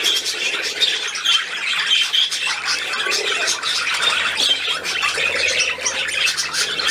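An aging seagull gives harsh squawks and calls close by, steady and fairly loud against a noisy outdoor background, while someone talks softly to the bird in German.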